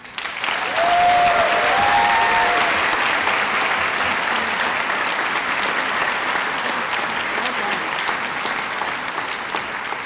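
A convocation audience gives a keynote speaker a sustained, loud round of applause, steady clapping filling the hall throughout with a faint cheer early on.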